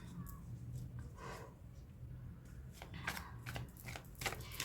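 Tarot cards being shuffled up close, soft papery riffles and slaps in several short bursts, with a low background hum and faint speech-like murmur.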